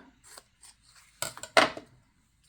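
Scissors snipping a steep tag shape out of paper, a few quiet crisp cuts close by, then two sharper louder snips near the end.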